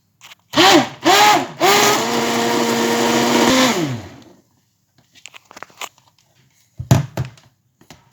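A stick blender whirs loudly in a jug of softened marinade ingredients for about three seconds after two short pulses, then cuts out, leaving faint clatter and a brief thump.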